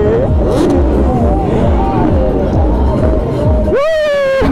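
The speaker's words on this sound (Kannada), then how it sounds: "ಕಾಲೇಜ್ ಸುತ್ತಮುತ್ತ ಎಲ್ಲ ರೇವ್ ಬಿಟ್ರೆ ಬೇರೆ ಏನು ಕೇಳಿಸ್ತಾ ಇಲ್ಲ" A superbike engine revs repeatedly near a crowded college festival, loud rising and falling engine pitch over a dense babble of voices, with one sharp high rev sweeping up near the end.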